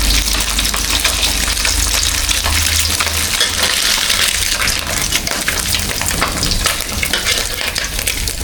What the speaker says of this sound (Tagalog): tapos na pong pinirito ni mama itong spam